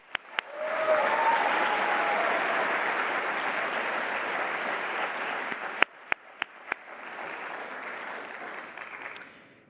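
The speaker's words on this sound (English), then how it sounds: "Let's give them an applause, please." An audience at a December master's graduation ceremony breaks into sustained applause that rises quickly and holds steady, then thins and fades, with a few sharp isolated claps near the end.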